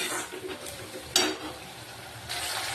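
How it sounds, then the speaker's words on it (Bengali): Shrimp fry in a spiced masala paste with garlic and ginger in a pan, a soft, uneven sizzle with intermittent stirring scrapes and a couple of louder bursts. "এর মধ্যে চিংড়িটা দিয়ে আবারও কষানো হবে"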